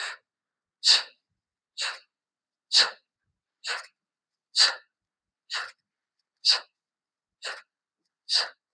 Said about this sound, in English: you exhale. You inhale as you transition and then you exhale again.